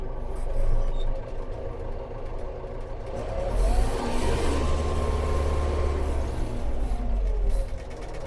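A DTZ 5504NK tractor driving in tenth gear. Its engine gives a steady, close, low rumbling drone with mechanical clatter that grows fuller midway and runs without pause.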